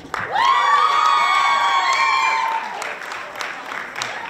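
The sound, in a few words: applause for young singing competition performers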